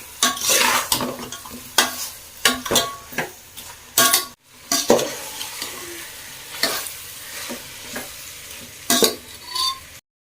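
Marinated chicken masala is sautéed in a pan for biryani, with steady sizzling frying under repeated sharp clinks and scrapes of a spoon stirring against the pan, close and without talk.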